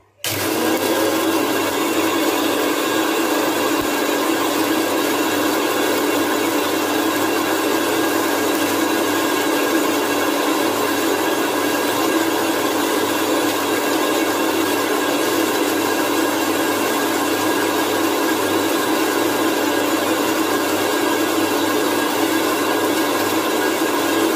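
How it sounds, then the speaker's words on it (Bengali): A mixer grinder jar runs steadily, grinding cumin, chilli and ginger into a paste for a Gobindobhog rice recipe, a loud continuous motor whine and whir lasting throughout with no talk. "আমি এখন জারটা বসিয়ে দিলাম পেস্ট করার জন্য।"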